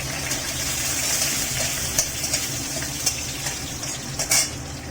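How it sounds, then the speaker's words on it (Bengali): Whole cumin, cinnamon, cardamom and two bay leaves tempering in hot oil for a jackfruit kofta curry, giving a steady close sizzle with occasional stirring clicks against the pan. "এবার আমি ফোড়নে দেব গোটা জিরে আর দারচিনি আর এলাচ, আর দেব দুটো তেজপাতা।"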